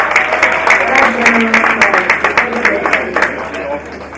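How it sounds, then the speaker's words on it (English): Applause from an audience at the NSE 2019 X-Kathon event, a steady wash of clapping lasting the whole stretch with some voices mixed in. "Please give a round of applause."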